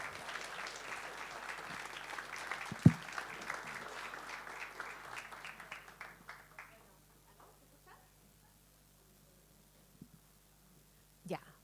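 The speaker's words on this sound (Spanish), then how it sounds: "Un aplauso para todos ellos." A conference audience at an international district energy event applauds award recipients, steady clapping that tapers off after about six seconds, followed by quiet room noise, a couple of thumps and a voice speaking.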